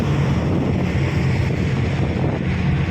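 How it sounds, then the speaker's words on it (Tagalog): Strong wind roars steadily against the microphone on the open sea toward Dumaguete, a constant low rushing buffet with no voices. "Malakas nga lang ang hangin."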